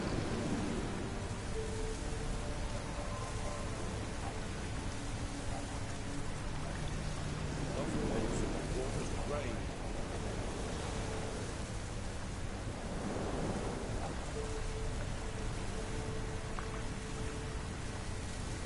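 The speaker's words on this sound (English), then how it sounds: "Looks like rain." Steady rain pours in the video game The Witcher 3, a dense, loud continuous hiss of rainfall with faint low rumbles of thunder rolling underneath, no voices present.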